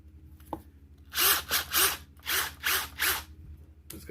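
Bosch GXL18V-233B25 cordless brushless impact driver with 1800 inch-pounds of torque, run in five short loud bursts of whirring with rapid hammering, separated by brief pauses, nearby and without speech.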